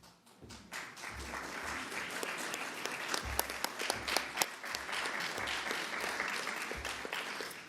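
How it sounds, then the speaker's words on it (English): Audience applause for the governor at a public event in Farmingdale, Long Island: steady, dense clapping from a sizeable crowd that holds throughout, with a few sharper individual claps standing out. "Let's give our governor another round of applause."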